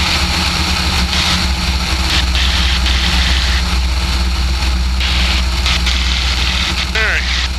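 A Nanchang CJ-6 aircraft's radial engine runs at full power, a loud, constant, heavy drone heard from inside the cockpit throughout.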